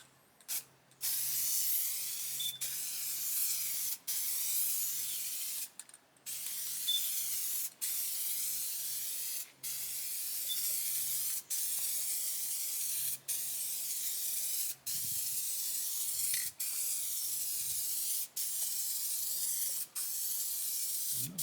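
Long hissing bursts of an aerosol spray paint can coating 1977 Camaro Z28 interior parts, repeated many times with brief pauses between, steady and close, with faint clicks at some breaks.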